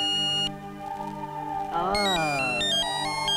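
A telephone rings in a Hindi film scene, its electronic ringtone of steady repeating tones sounding loud and close, with background music swelling underneath.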